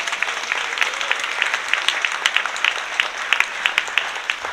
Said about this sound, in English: can I get one more round of applause for all our students?